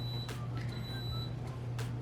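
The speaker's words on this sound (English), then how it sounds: "That's just my iron beeping at me." A clothes iron beeps a few times, thin high tones over a low steady hum in a sewing room, faint and spaced apart, with no talk over them.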